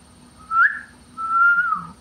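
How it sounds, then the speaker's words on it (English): A person whistles two short rising-and-falling notes, the second held longer, clear and close in an otherwise quiet room. "I can still whistle."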